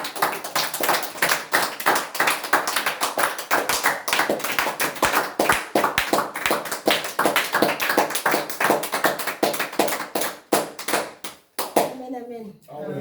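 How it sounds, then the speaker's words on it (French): A church congregation claps steadily and fast in rhythm throughout, loud and close, with voices mixed in, the clapping thinning out near the end. "Tu vas encore te lever et acclamer."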